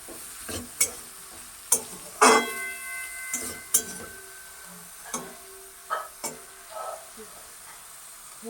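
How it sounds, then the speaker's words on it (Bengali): Eggplant coated in salt and turmeric is stirred in a pan while frying, with a soft steady sizzle broken by a run of sharp scraping and tapping clicks from the spatula. "বেগুনটাকে দিয়ে দিলাম নাড়াচাড়া করবো তারপরে একটু বেগুনটা হতে দিই"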